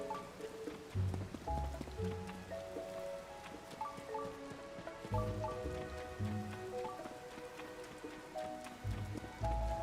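Steady rain falls in the video game Zelda: Tears of the Kingdom, a soft continuous patter heard alone beneath low, sustained game music tones.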